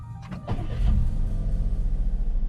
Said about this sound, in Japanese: ではエンジンを始動させてみます。